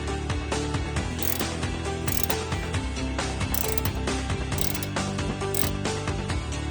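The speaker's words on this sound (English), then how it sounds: "you're going to use a 5mm Allen key inside the bolt, and then a 14mm on the nut itself" A ratchet wrench turning the 14mm nut on a front sway bar link of a 2013 Mazda 3, a fast continuous clicking of the pawl, close and steady throughout with no talking.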